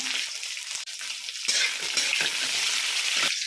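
Whole spices, crushed garlic and sliced onion frying in hot oil for mixed veg kadai pulao, a bright continuous sizzle with soft stirring scrapes, close and steady, no voices.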